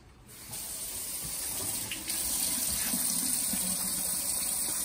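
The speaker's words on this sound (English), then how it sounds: "So I'm gonna go over to my sink and I'm gonna wash my hands." Tap water runs continuously into a kitchen sink while hands are washed under it, a steady close hiss with slight changes in splash as the hands move.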